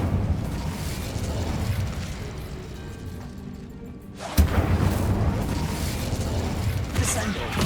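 Incendio fire spell cast in Hogwarts Legacy: a sudden loud whooshing burst cuts in midway over a low background rumble, followed by a crackling, roaring fiery wash.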